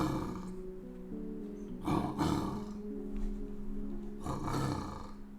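A Pokémon cry in a video game sounds like a lion, giving a few rough, roaring bursts over a steady tone, at moderate volume and with no talk.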